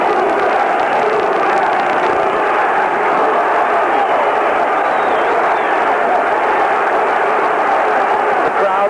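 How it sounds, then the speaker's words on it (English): A boxing arena crowd roars and urges a fighter on toward a knockout, loud and continuous, a dense wash of shouting and cheering throughout. "The crowd urging him on to the knockout."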